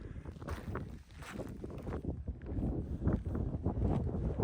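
Strong gusty wind buffets the microphone on a glacier along the Icefields Parkway in Jasper, a loud low rumbling roar that surges and eases in waves, close and without talk.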